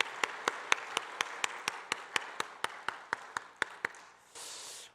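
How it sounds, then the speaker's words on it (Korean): During a Thanksgiving Sunday church service, the congregation claps for the choir in a steady unison rhythm of about fifteen evenly spaced claps, then stops and gives way to a brief burst of broad noise. "우리 수고하신 찬양대에게 박수로 한번 감사하겠습니다."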